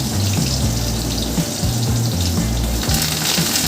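Crushed garlic, dried red chillies and curry leaves fry in hot oil for a beetroot and moong dal dish, making a loud, steady crackling sizzle close by, with a low musical bass line underneath.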